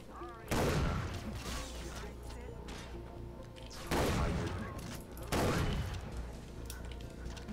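Gunfire in Far Cry Blood Dragon during a hostage rescue, three loud separate bursts of shooting with short reverberant tails, someone talking excitedly between them.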